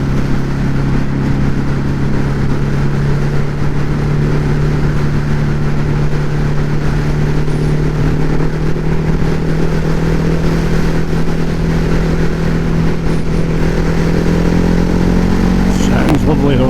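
A Ducati Hypermotard motorcycle engine runs at a steady, close idle, a loud even throb that holds throughout and rises slightly at the end, with talk over it.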